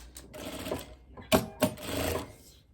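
Sewing machine stitching the sleeve lining to the body lining of a tweed overcoat, short close whirring runs broken by a couple of sharp mechanical clacks.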